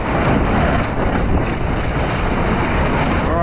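Gale-force wind blasting across a racing sailboat at sea off Cape Horn among five-meter waves, a loud, dense roar of wind buffeting the microphone over crashing water, sustained and unbroken for a few seconds.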